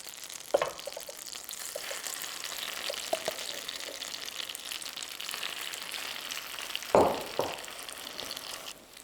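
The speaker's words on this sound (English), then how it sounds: "put the egg cabbage mixture onto the pan" An egg and cabbage mixture for Korean street toast frying in a pan, giving a faint, steady sizzle with a few sharper crackles and tong clatters, no talking.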